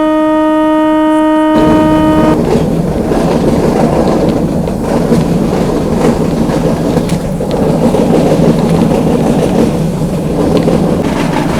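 A meter gauge passenger train running on the Junagadh to Veraval line, loud continuous rumble and wheel clatter on the rails, opening with a brief sustained horn-like tone before the rolling noise takes over.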